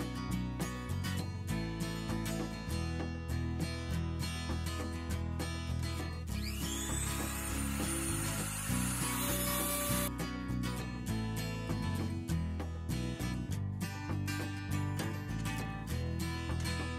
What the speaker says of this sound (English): This is my combination belt and disc sander.